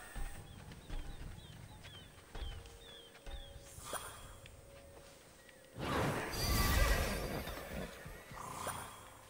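A summoned horse in the video game Immortals Fenyx Rising gives a loud whinny, with snorts and hoof clatter around it, plus faint birdsong and game ambience, no speech.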